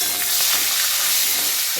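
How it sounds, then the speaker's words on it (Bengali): Whole spices with panch phoron, a bay leaf and three or four green chillies frying in hot oil, a bright, continuous close sizzle with faint stirring, no speech. "ফোড়নটা সুন্দর করে আমি ভেজে নিই"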